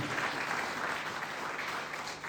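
A congregation at a Spanish-language church service claps together in a steady, dense round of applause, even in volume for a couple of seconds, with no voices over it.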